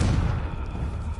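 A Confringo spell is cast in Hogwarts Legacy, giving a short, deep explosive boom with a rumbling tail. The sound is brief and moderately loud.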